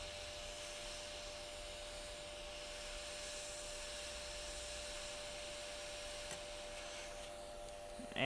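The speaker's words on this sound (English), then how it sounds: "we'll get in here nice and tight with some hot air to remove it" A hot air rework tool blows a steady, faint airy hiss with a thin whine while heating a chip on a dead SSD's circuit board, running unbroken until a brief clatter at the end.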